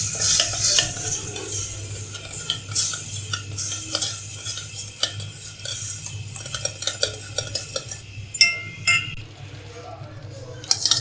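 Cocoa powder being stirred into hot milk in a pot, with repeated scrapes and clinks of a spoon against the pan over a low steady hum, fairly close.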